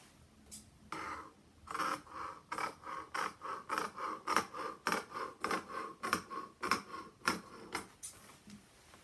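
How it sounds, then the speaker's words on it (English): Scissors cut along a fabric strip for a chair cushion cover, giving a steady run of about a dozen crisp, evenly spaced snips, close and fairly quiet, with no talking. "you will need a strip of fabric for this type of cushion cover. So I'm just going to cut along here now."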